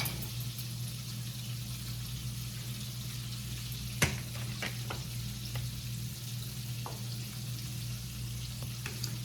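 Two eggs fry in a home kitchen pan with a steady, close sizzle throughout. A sharp clack comes partway through, followed by a few lighter taps over the continuous frying hiss.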